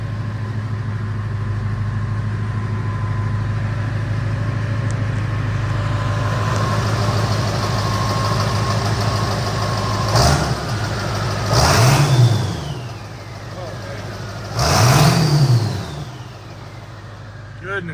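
A 7.3 Powerstroke diesel truck engine with a custom hood stack idles with a steady low rumble, then revs up twice in short bursts near the end, each rise and fall clearly audible.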